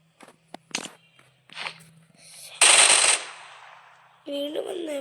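Gunfire in the BGMI mobile battle royale game: a few sharp isolated shots and clicks, then a dense loud burst of automatic fire, followed by a tonal in-game effect.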